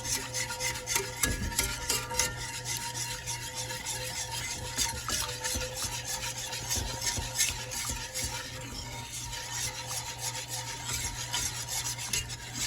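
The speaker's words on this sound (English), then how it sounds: "See how the whisk is kind of like taking out the clumps?" A whisk works through homemade country gravy in a pan, breaking up clumps: a steady scraping, stirring rasp with a faint sizzle underneath, continuous and close for the whole stretch, with no talking.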